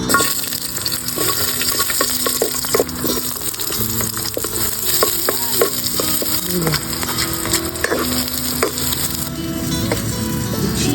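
Food, apparently chicken, frying in a pan while lunch is cooked at home: a continuous loud sizzle with repeated scraping and stirring clatter, and no voices.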